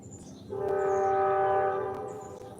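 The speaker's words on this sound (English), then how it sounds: "There's my morning train." A morning train passes close by and sounds its horn, a loud sustained multi-tone blast lasting over a second before fading, with faint rail rumble underneath.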